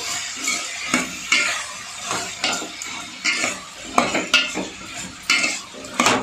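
Vegetables for a Tamil masala kulambu, salted, are sautéing in a pan while a spatula stirs them. Repeated scraping clinks of metal on the pan come at an uneven rhythm over a soft frying hiss, close by with no voices.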